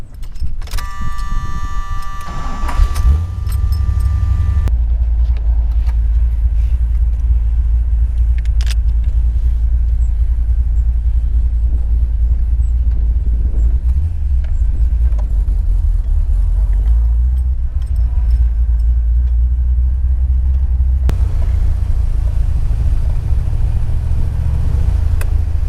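A Hot Rod Garage Chevrolet Malibu cruises along with a loud, steady engine and road rumble throughout, plus a brief mechanical chime and rattle near the start.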